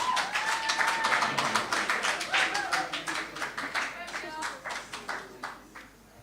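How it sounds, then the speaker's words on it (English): Audience at a Lions Club South St Vincent zone event gives a round of applause, with dense, lively clapping close by that gradually thins out and fades toward the end. "Give her a round of applause, please."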